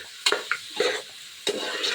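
Mutton curry with onion, ginger and turmeric stirred in a pot, a few separate scraping strokes with soft sizzling between them, close and fairly quiet.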